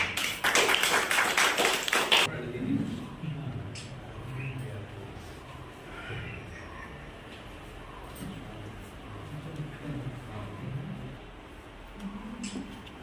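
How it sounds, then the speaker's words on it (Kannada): A crowd at an installation ceremony for the new office-bearers of a social justice organisation breaks into loud, dense applause for about two seconds, then it dies away into quiet room murmur and scattered voices. "ಜೋರಾದ ಚಪ್ಪಾಳೆಯೊಂದಿಗೆ"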